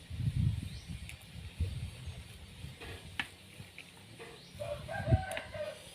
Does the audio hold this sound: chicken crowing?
yes